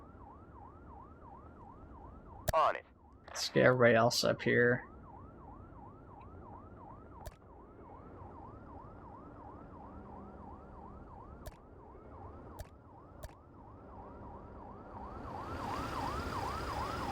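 Ambulance siren in the Fire Commander video game, a steady wailing cycle running throughout at low level, with brief talk early on and sharp clicks scattered across.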